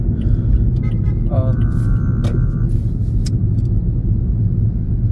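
A Toyota Vios engine idles with a stock resonator, tip and muffler, a steady, low, muted exhaust rumble, fairly loud and close, with brief faint higher noises on top.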